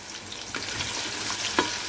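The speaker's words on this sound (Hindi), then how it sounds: "तो प्याज को हम ब्राउन कर लेंगे" Onions browning in oil in a pan for chicken yakhni pulao, with a steady close sizzle and occasional stirring scrapes throughout, no voices.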